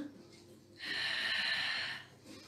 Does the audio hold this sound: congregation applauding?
no